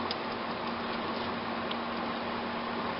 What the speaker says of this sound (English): Sorry if you guys can hear my air conditioning in the background